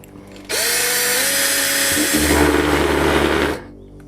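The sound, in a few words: power drill driving screw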